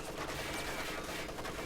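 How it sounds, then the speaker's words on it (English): An MG34 machine gun fires on infantry entering a building in a World War II real-time strategy battle, heard as rapid, fairly faint bursts of automatic fire over steady battle noise. "MG34 firing on conscripts that are jumping into the building"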